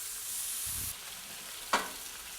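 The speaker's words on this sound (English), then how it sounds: "I'll do the tomatoes in another pan just to saute them a little bit" Tomatoes sautéing in a pan give a soft, steady sizzle close by, with a low shuffle early on and one sharp clack of a utensil near the end.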